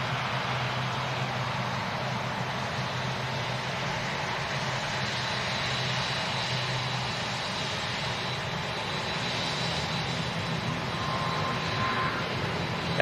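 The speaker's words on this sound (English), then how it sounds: "the Aer Lingus A330 will be taking off soon as well. CF6 engines are going to sound nuts on a day like today." Steady, broad jet roar from an Aer Lingus Airbus A330 with CF6 engines taking off, a continuous, fairly loud rumble with no voices heard.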